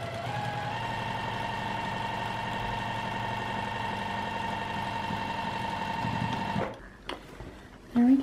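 A sewing machine stitches steadily to close the opening of a zipper pouch, running at a constant hum for several seconds before stopping, then a few faint handling sounds follow.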